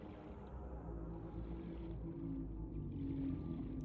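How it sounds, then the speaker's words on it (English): A giant sea whale in the video game Subnautica gives a low, drawn-out moaning call with a few sustained tonal swells over a deep underwater rumble, fairly faint and with no talk. "There's the big sea whale that I was hearing."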